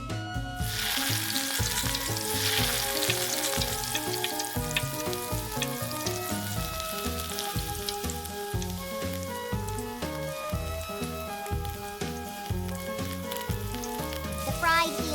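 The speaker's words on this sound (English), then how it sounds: "The eel is deep fried until crispy." Eel deep frying until crispy in a miniature pan, giving a dense, continuous crackle and bubbling sizzle throughout, moderately loud and close, with a soft musical backing underneath.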